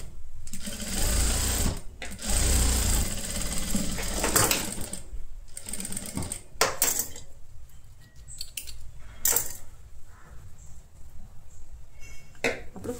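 A sewing machine sews a flat stitch along the edge of a halter neck blouse in loud, rapid bursts, then stops, followed by lighter handling clicks and small metallic taps.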